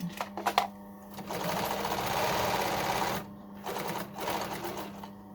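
A sewing machine stitching a 1.5 cm seam around the outer hood pieces of a hoodie, a close mechanical whir in two sustained runs separated by a short pause, with a few clicks at the start.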